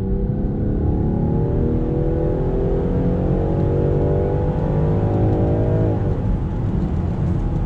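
A 2020 Land Rover Defender's engine rises steadily under throttle while merging onto a highway, loud and continuous with climbing engine pitch, road and wind roar underneath, and a brief shift near the end.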